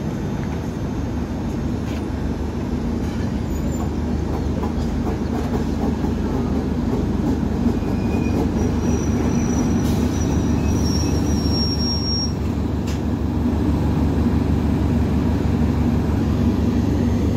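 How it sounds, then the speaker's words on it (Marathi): The Koyna Express between Kolhapur and Pune rumbles steadily along the rails, a continuous loud rolling drone with faint metallic squeals riding above it. "निघाली आपली ट्रेन"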